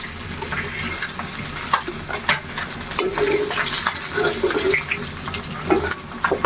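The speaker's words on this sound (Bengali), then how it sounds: "মাছগুলো খুব ভালো করে ভেজে নিব" Small mini fish fry in a pan with a continuous loud sizzle, broken by scraping stirs and occasional clatter of a utensil, close by and without speech.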